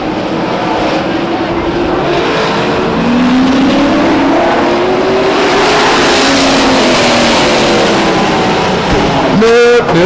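Race cars at Stockton 99 Speedway roar loudly across the start-finish line. The engine tone climbs and sustains throughout, and a sharp, close pass comes near the end.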